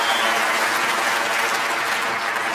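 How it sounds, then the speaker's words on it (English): A snooker crowd at the World Championship applauds in a dense, sustained wash of clapping that stays loud and steady throughout. "And listen to the crowd."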